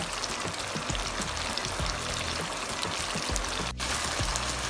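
Potatoes sauté in a pan with a busy crackle and spatter, irregular pops over a continuous hiss, fairly close, with a brief dip near the end.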